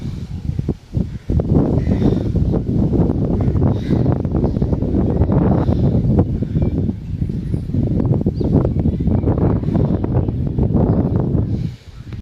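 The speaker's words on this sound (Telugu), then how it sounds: "గాలి అయితే చూడండి" Strong wind roars across a rooftop in hilly country after a storm, buffeting the microphone in a loud, continuous rumble with a brief lull near the start and another near the end.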